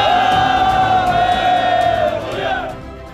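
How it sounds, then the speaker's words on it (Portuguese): A festival procession crowd raising a sustained collective shout, loud and close, holding steady before tapering off near the end. "reúnem-se em pequenos grupos para alternadamente se levantar o grito"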